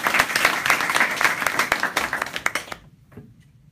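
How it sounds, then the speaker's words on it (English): Applause from an audience after a speech: a dense burst of clapping, fairly close, that thins out and stops after about three seconds, leaving quiet. "Okay, round of applause for Chloe."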